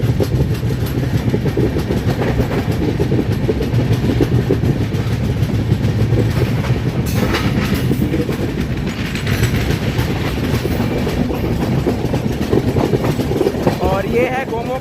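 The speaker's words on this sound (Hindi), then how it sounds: "ट्रेन गोमो से डिपार्ट ले चुकी है, रात हो चुका है" Passenger train 13151 running at night after leaving Gomo, heard from onboard as a steady, loud rumble of wheels on rail with a rhythmic clickety-clack. The rumble holds throughout, with faint background voices.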